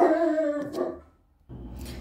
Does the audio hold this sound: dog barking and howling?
yes